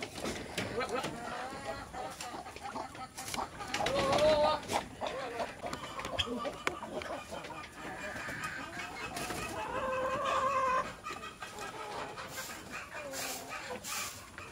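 Hens cluck intermittently near their nests on a backyard chicken farm, the calls close and moderately loud, mixed with rustling and soft farmyard noise.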